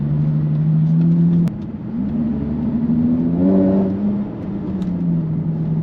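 A Jaguar F-Type convertible (X152) drives into a busy city centre, its engine humming and rising in pitch as it accelerates and shifts, heard steadily close up with no talk.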